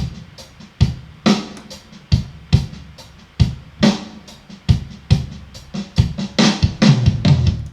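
A sampled drum break used for a drum and bass rap beat, with punchy kicks and crisp snare hits in a steady, repeating groove, loud and up front with no voices.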